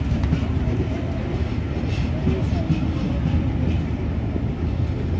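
A long passenger train hauled by steam locomotive 6233 Duchess of Sutherland rolls past with a loud, steady, continuous rumble and wheel roar heard close by.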